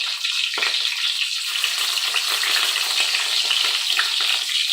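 Dried red chillies fry in hot coconut oil with cinnamon, cloves and cardamom, producing a steady close crackling sizzle with occasional sharper pops, and no voices.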